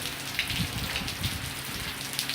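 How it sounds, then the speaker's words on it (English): Steady rain falls outside a home balcony, a dense even patter with scattered louder drops spread across the whole stretch, no voices over it. "now we can not go out because the rain is starting"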